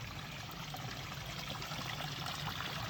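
Water pours steadily from a pond filter outlet into a garden fish pond, a continuous close, even rushing trickle with no pauses or voices.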